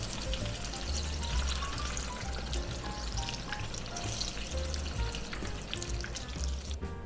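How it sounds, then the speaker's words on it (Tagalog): Hot oil sizzles and crackles steadily as turon (banana spring rolls) deep-fries, a dense bubbling hiss with scattered pops, close and continuous. "iprito lang natin yung the rest ng ating turon"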